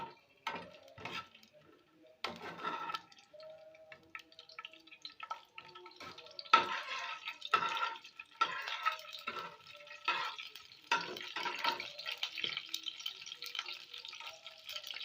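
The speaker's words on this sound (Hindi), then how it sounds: "इसमें हम अपने बादाम जो है इनको रोस्ट करेंगे।" Almonds roasting in hot oil in a frying pan, with close, crackling sizzle and bursts of stirring and scraping against the pan that come and go over a quiet kitchen background.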